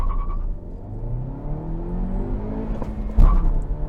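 A 2022 Honda Civic Hatchback engine revs and accelerates hard from a stop, pitch climbing steadily with a gear shift near the end, heard from inside the car.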